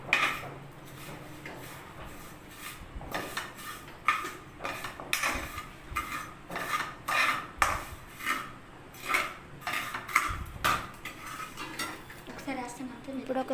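Vermicelli for kunafa is fried and mixed in a pan, giving a steady run of metal scrapes and clinks from a spoon against cookware, rising and falling in close rhythmic strokes.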